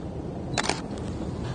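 A DSLR camera shutter fires at 1/60th of a second, a quick close double click over a steady background hiss, with no talk.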